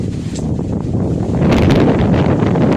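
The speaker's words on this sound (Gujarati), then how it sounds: "જોરદાર પવન આવે છે" Strong wind buffets the microphone in a steady, loud roar that grows heavier halfway through, with no one speaking.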